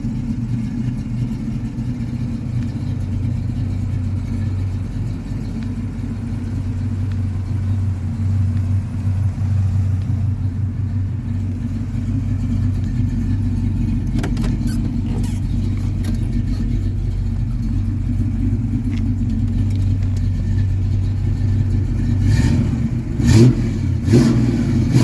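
A 1965 Pontiac GTO convertible's 389 V8 with a factory performance cam idles and revs in a loud, steady low rumble, with a few sharper throttle blips near the end and no talk.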